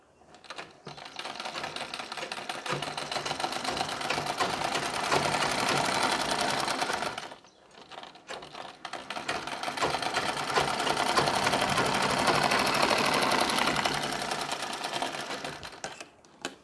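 An electric sewing machine stitches folded fabric strips onto a Nauvari saree in two long, steady whirring runs separated by a short pause, close and loud with no talking.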